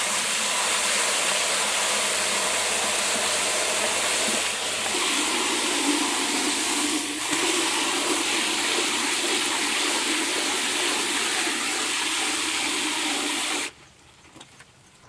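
Pulverized lime being stirred into a few gallons of water, a continuous rushing, churning wash of liquid that holds steady for most of the time, then drops off abruptly near the end.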